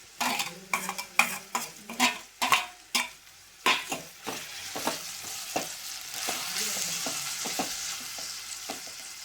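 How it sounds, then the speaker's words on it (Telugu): A spoon stirs alchanthakaya curry with tomato and coriander in a frying pan, making a run of loud clanking scrapes over a sizzle, then softer steady frying. "కలిపి మూత పెట్టాలి"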